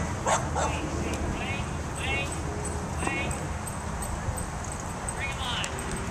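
A small bulldog barks in short, sharp yaps, several bursts spread across the scene while people talk nearby.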